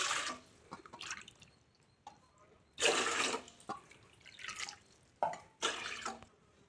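Water pours into a cooking pot in several short, splashy bursts with quiet pauses between them, close by and fairly soft.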